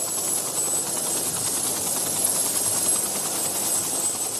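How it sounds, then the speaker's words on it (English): A life flight medical helicopter flies steadily, its broad rotor and engine drone holding at an even level throughout with no talk over it. "A life flight helicopter transported Trista the 17 miles to Eggleston Children's Hospital"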